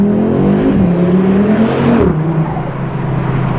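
An Audi RS3 8Y launches hard, its exhaust roaring as the engine climbs steadily in pitch, then drops sharply at a gear change before building again, loud and close with no talking.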